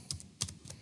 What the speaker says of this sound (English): So let's say I'm going to type in the answer.